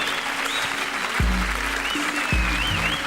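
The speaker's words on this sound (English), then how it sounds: "Give her a big round of applause, y'all." A comedy show audience applauds at a 1994 live stand-up performance, with continuous crowd clapping and a few whoops and low rumbling thumps mixed into the steady noise.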